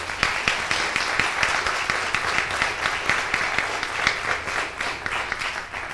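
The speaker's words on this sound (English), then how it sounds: "Would everybody give the chief a nice round of applause?" An audience gives a fire chief a round of applause at a service event, with steady dense clapping from a crowd lasting the full six seconds, fairly close and even in loudness.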